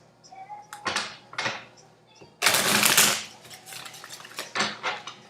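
Tarot cards being shuffled up close: several papery riffles and flutters in bursts, with a longer, louder shuffle in the middle.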